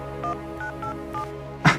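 Phone keypad tones punched in to unlock a murder victim's mobile phone, four distinct beeps in an even rhythm followed by a brief louder click or burst at the end.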